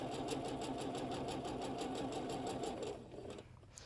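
A sewing machine stitches a quilt block for a Starry Path pattern, with a steady, rapid mechanical whir and rhythmic needle clatter, close and alone, slowing and stopping just before the end.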